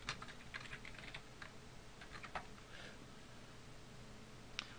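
A script name typed on a computer keyboard: quick, light key clicks in short bursts with brief pauses, close and quiet over a faint steady room hum, ending with one sharper keystroke.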